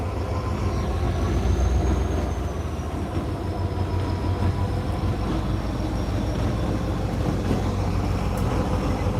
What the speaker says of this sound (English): Remember, that is a remote controlled locomotive.